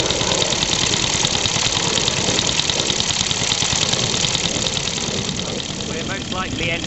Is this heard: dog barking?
no